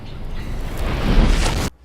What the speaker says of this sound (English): the sound for it is just an amalgam of different sounds, being a grenade explosion, a whoosh sound, and Indiana Jones's whip crack, all reversed and all slowed down immensely